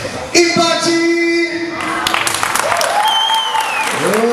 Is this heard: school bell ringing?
no